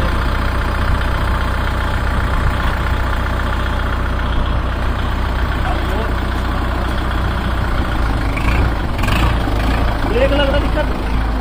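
A Kubota MU 4501 tractor idles in neutral, its diesel engine holding a steady, close, loud throbbing chug with an unchanging rhythm from start to finish.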